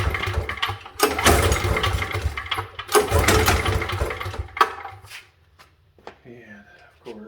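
Generator engine being pull-started but failing to catch: two loud rough bursts of cord-pull cranking close by, then quieter rattling and shuffling, with a brief voice near the end.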